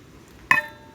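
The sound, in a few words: stirring salt brine in a container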